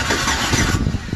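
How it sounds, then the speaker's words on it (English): A car engine cranks on its starter, triggered by pressing the starter relay solenoid, a loud, close, continuous churning rumble lasting barely over a second without catching. "whenever you depress this little solenoid here, it's going to crank the engine."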